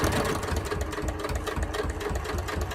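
A sewing machine stitches through both seam allowances of a cut-on trouser fly with a zipper shield, making a fast, steady mechanical run of stitches that stays close and even throughout, with no talking.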